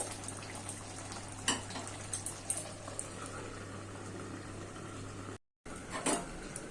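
Bottle gourd simmers with fish curry in a covered pan, giving a steady bubbling hiss broken by a few scraping stirs and a short silent gap.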